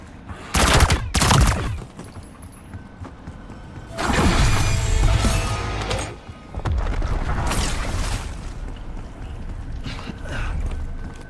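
Pistols fire in a video game in several sharp, loud bursts: two quick shots near the start, then longer clusters of rapid shots with mechanical clatter between them, and no talking.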